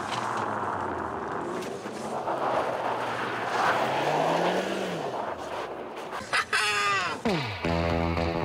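An Abarth accelerates on an ice track, its engine note rising and falling under a wash of noise, ending in sharp climbing revs as the car pulls away, with a faint voice briefly present.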